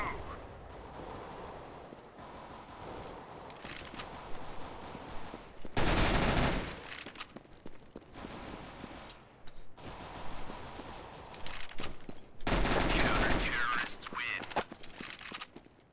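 Automatic weapon fire from a first-person shooter game, loud bursts recurring in short volleys over a busy backdrop of in-game sound and chatter, with players talking throughout.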